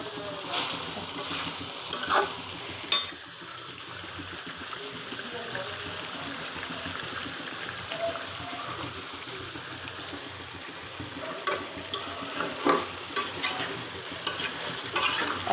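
Spiced gizzard and liver frying in a pan, cooked down without water, giving a steady close sizzle with repeated scraping stirs and occasional sharper clinks of the spoon against the pan.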